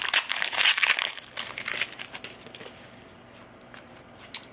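A foil pack of football trading cards is ripped open by hand, with close crinkling and tearing bursts that are loud at first, then fade to quieter rustling and a final sharp crinkle.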